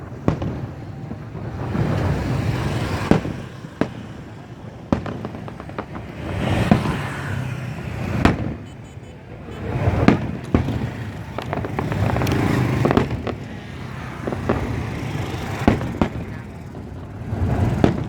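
Fireworks bursting over Saigon Bridge on New Year's 2021, a steady series of sharp booms and crackles at varying distance amid crowd noise and traffic, with people chatting throughout.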